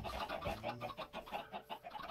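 Chickens in the TerraFirmaCraft Minecraft mod give a quick run of soft, rhythmic clucks, about a dozen evenly spaced calls, quiet and alone with no talk over them.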